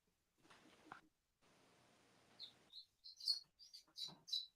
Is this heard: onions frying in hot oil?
no